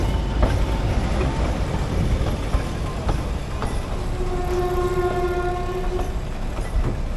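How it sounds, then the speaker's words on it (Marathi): A 110-year-old heritage narrow gauge train runs on the Bilimora-Waghai line with a loud, continuous rumble and rattle of the wagons close by. A sustained horn sounds near the end. "आता परत ट्रेन थांबणार आहे."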